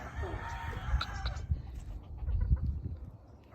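Chickens cluck and call on a farm, short bursts mixed with other farm animal noises and low background rumble, while people talk nearby.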